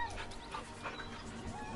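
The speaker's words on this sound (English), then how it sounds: "The dog whimpers nervously," A nervous dog whimpers and whines in a run of soft, high, wavering cries, close and fairly steady over a faint background.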